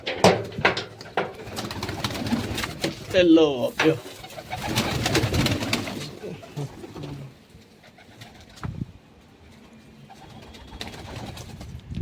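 Pigeons coo softly in the background while people talk nearby, with some rustling and a brief bright call partway through.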